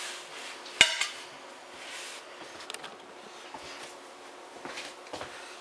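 A frying pan is clattered onto a stovetop with one sharp metallic clank, then faint scrapes and light knocks of cookware follow quietly in a kitchen.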